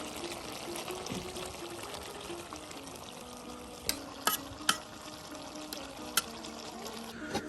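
A dried fish chorchori cooks in a pan with a low, steady sizzle and bubbling hiss, faint and continuous, broken by a few sharp clicks and taps from stirring.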